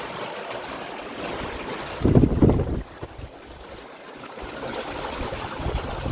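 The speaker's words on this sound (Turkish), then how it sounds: "Artık rüzgarın içine girdik." Wind blows across a sailing boat out on the Pacific, a steady buffeting rush with a louder gust in the middle and water sounds beneath.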